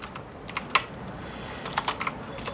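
Quick, irregular clicks of typing on a computer keyboard, coming in short bursts of keystrokes that are close and clear against a quiet room.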